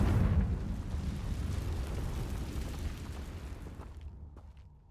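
Confringo blasting spell explosion in Hogwarts Legacy, a heavy rumbling blast with a deep low roar that decays over several seconds into a fading crackle and then quiet.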